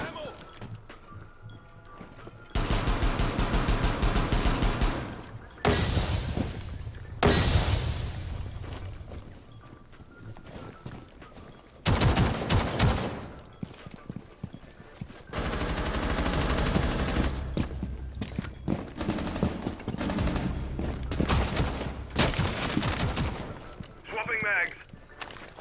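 Video game gunfire comes in loud, dense bursts of rapid shots, separated by short quieter gaps, with a person talking over the action.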